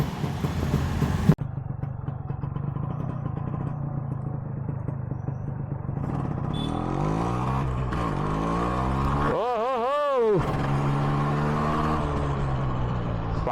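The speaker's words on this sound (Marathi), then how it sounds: "First ride of my Yamaha RX 135." A Yamaha RX 135 motorcycle on its first ride, its engine running steadily and close by throughout, with a sharp knock near the start and a swooping pitch sweep partway through.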